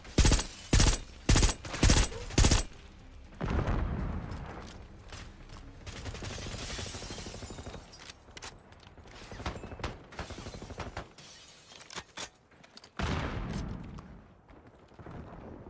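Gunfire in a hardcore team deathmatch video game, opening with several loud evenly spaced shots, then a longer stretch of rattling bursts, mechanical clanks and scattered sharp cracks, with no talking.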